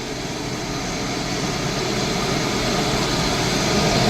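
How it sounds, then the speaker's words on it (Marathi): Air India airplane taking off at Mumbai airport, a steady broadband jet engine roar that swells slightly louder over a few seconds, with no voices. "एअर इंडियाचं चाललं विमान आता टेक ऑफसाठी."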